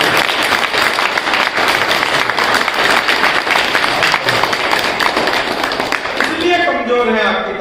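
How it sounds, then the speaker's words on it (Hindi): At a Hindi poetry gathering honouring Lance Naik Hanumanthappa, a large crowd claps loudly and continuously, a thick wash of applause that fades near the end as a voice resumes speaking. "आपको हनुमत खप्पा के लिए आपकी तालियां"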